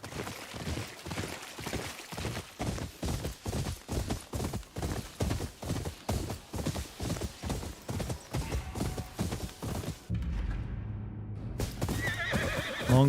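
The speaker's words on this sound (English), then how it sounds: "This is a very graceful horse." Horse hooves clip-clop in a steady gallop for about ten seconds in a samurai-era open-world video game, then the horse lets out a loud whinny near the end.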